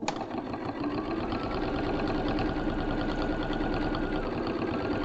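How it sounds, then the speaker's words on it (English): Sewing machine top stitching a cord tidy and pouch, running continuously at steady speed with a fast rhythmic mechanical hum and needle chatter, close and alone throughout. "just top stitching everything into place"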